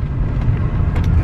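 A car driving home fills the cabin with a steady, close low rumble of engine and road noise that holds evenly throughout.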